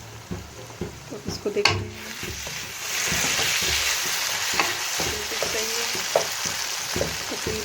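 Cauliflower frying and being stirred in a pan, a close steady sizzle with scraping utensil strokes; a voice speaks briefly near the start before the frying noise swells.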